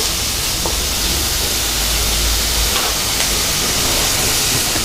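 Mutton varuval ingredients sautéing with salt in a pan, a continuous broad sizzling hiss with faint crackles, steady and close with no voices.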